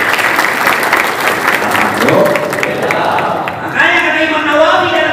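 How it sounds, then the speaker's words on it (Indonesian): A crowd at a religious gathering with police applauds loudly, dense clapping over a voice that carries on speaking, with the clapping thinning toward the end as talk takes over. "Tepuk tangan untuk polisi."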